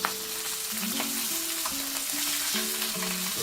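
A burger patty for a patty melt cheeseburger frying on a hot surface, with a steady near sizzle and scattered crackles; short tonal clatters from the cooking area sit on top of it.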